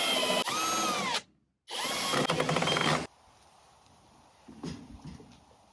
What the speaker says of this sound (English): Alright, I'm gonna drill.